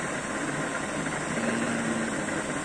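A constant oil burner blower drone with an airy roar and low hum, steady and unchanging at moderate volume, no voices.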